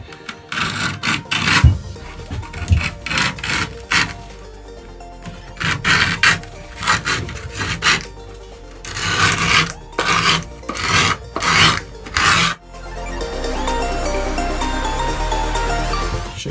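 A screwdriver rubbed firmly over paper stuck onto an old skateboard deck, making loud rasping scrapes in repeated uneven strokes, then a steadier continuous scraping toward the end, close and with no talk.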